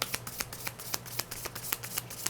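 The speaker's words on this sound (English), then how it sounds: "these cards are a bit weird to shuffle now" Tarot cards being shuffled by hand, a quick series of crisp riffling snaps repeating every fraction of a second, close and fairly quiet against a low steady hum.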